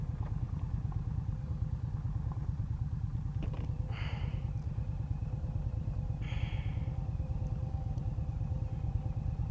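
A 2018 Indian Scout Bobber motorcycle being ridden at a demo day, its engine giving a steady low throbbing pulse throughout, with a couple of brief higher rushing bursts over it.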